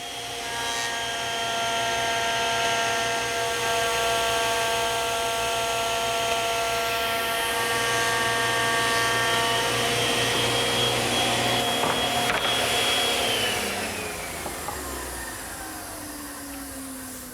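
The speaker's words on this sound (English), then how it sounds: "I'm going to show you a shortcut using the thickness planer" Thickness planer smoothing glued-up wood panels, a loud steady whining drone with sustained tonal hum, holding for most of the time before spinning down and fading near the end.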